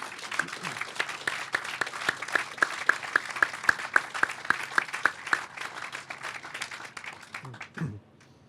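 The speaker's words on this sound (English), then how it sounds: "How about a round of applause for David and Rita?" A room of attendees at a gift announcement applauds donors, crisp overlapping claps building then fading, moderately close, with voices murmuring faintly at the end.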